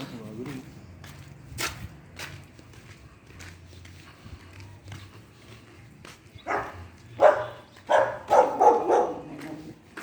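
A dog barks in a burst of several sharp, loud barks near the end, after a stretch of footsteps and background voices while people walk outdoors.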